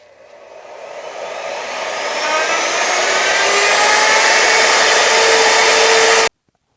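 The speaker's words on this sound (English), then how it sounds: "I think I'll just use my router for that. And I'm just going to use a quarter inch round over bit for that." A router fitted with a quarter-inch round-over bit whines as it spins up and cuts along plywood, its pitch and loudness climbing for about six seconds before stopping abruptly, heard alone.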